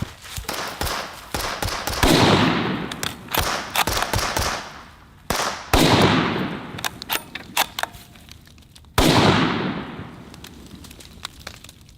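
A .308 long-range rifle fires several sharp, loud shots with echoing tails, mixed with rapid bursts of distant gunfire in a sustained exchange.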